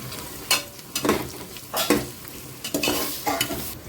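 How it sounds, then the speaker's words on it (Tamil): Green chilies and onions sauté in a pan, stirred in quick repeated strokes that scrape and sizzle roughly twice a second, close and clear with no talking. "இந்த பச்சை மிளகா வெங்காயம் லைட்டாக வதங்கினா போதும்"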